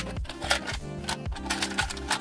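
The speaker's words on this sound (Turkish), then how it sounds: "Sonra makinayla bir dikiş çekiyorum kenarından" Domestic sewing machine running a seam along the edge of a dress zipper with a zipper foot, its motor whirring in short repeated bursts with rhythmic needle clatter, close and steady.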